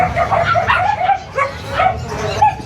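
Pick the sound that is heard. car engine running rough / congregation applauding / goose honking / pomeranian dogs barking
pomeranian dogs barking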